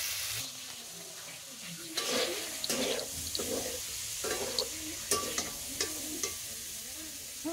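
Food frying on a stove gives a quiet, steady sizzle under repeated stirring scrapes and knocks of a utensil against the pan, close by, with no speech.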